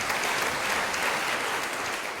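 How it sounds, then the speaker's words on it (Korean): Audience applause at an academic conference hall after a presentation, a continuous moderate wash of many hands clapping, fairly soft and even throughout. "격려의 박수 부탁드리겠습니다."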